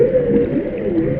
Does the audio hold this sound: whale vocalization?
yes